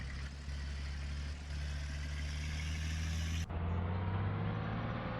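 A steady tractor engine drone heard from inside the cab in the video game Farming Simulator 2013, low and constant, with a sudden shift in tone partway through.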